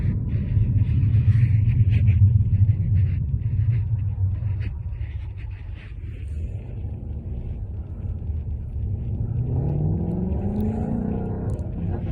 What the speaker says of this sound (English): That's a Mustang.